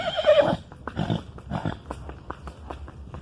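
A horse being moved to a new pasture gives a loud, close neigh at the start, followed by softer snorts and rhythmic thuds.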